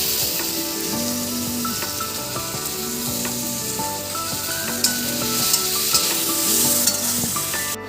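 Constant hiss of potatoes frying in a pan, mixed with a recurring low hum and occasional clinks of stirring.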